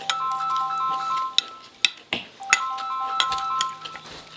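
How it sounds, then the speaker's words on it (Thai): Mobile phone ringtone chiming at home during a meal of larb, a repeating melodic pattern of bright tones that plays through the whole stretch with clinks of dishes and cutlery mixed in. "โทรศัพท์ผู้ใดเนาะ"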